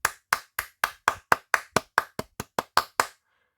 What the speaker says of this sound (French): suivi de quelques petits applaudissements